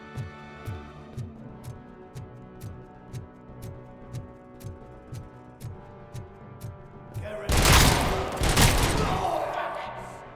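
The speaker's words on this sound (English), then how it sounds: "Yeah, sniper rifle 50 caliber. Yeah, that does some damage." Heavy .50 caliber sniper rifle in the RoboCop Rogue City video game, a run of about a dozen evenly spaced thumping shots followed by a dense, loud burst of blasts near the end.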